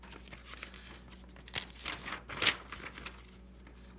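A slip of paper is folded and pressed into a sharp crease on a tabletop, giving soft crinkles and scrapes and a single firmer swipe near the end, quiet and close.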